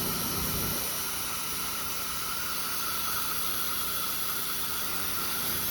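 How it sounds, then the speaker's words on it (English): Pressure washer rinsing down the outside of a duplex house, a loud, steady spray hiss close by that runs unbroken with no talk. "Just going around, get everything a good rinse."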